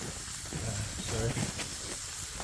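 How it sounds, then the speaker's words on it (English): Steam hisses on a camp griddle after water is added to melt cheese slices on burgers cooking with onions during winter car camping, a steady close sizzle with no talk. "I'm gonna throw it on top. Create some steam in there, and we'll let those guys melt."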